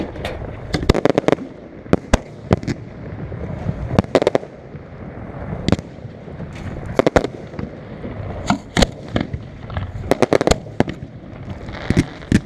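Fireworks being launched by hand at a 4th of July pyrotechnic show: sharp, close pops and crackling bursts arrive in irregular clusters over a low background hiss.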